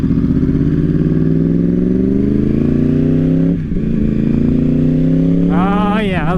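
A sport bike motorcycle under way, its engine note rising steadily through the gears with a brief dip at a shift, then a sharp rev near the end, heard up close and loud.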